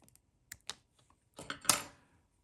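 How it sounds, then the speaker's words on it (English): Scissors snip through Mylar tubing for a fly-tying pattern, a few soft clicks followed by a louder crisp cluster of cuts, close and quiet. "I'm gonna grab my scissors, cut it right here."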